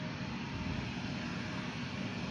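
A Delta Embraer 175 airliner lands at an airport, its engines a steady, faint broadband roar that holds level throughout with no voices.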